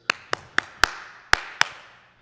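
Six sharp hand claps sound alone in a church, ringing close and distinct in an uneven rhythm, two quick pairs and then wider gaps, each with a short reverberant tail.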